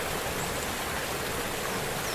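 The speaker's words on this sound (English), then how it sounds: "The waterfall." Steady, dense rushing water, a constant broadband roar from a nearby waterfall in the video game Walkabout Mini Golf, Cherry Blossom course, with no other sounds.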